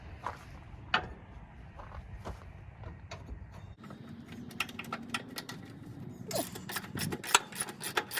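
Wrench ratcheting on fuel tank mounts of a cabover truck under restoration, quick clicking runs of the pawl with scattered metallic taps, close and fairly quiet.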